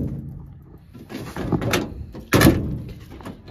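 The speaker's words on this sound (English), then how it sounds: "The door still shuts perfect." Cab door of a 1968 Dodge D300 tow truck swinging shut, a couple of close, solid metallic thuds over faint outdoor ambience.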